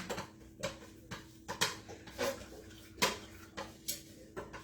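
Food ingredients mixed in a bowl for a Cinco de Mayo dish, a series of close clinks and scrapes of a utensil against the bowl in an irregular rhythm, with soft wet stirring between.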